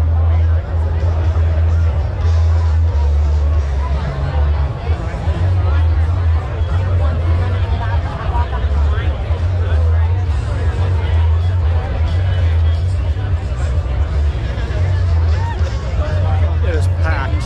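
A packed night crowd at Daytona Bike Week makes a loud, constant babble of many voices with a heavy low rumble underneath, steady throughout.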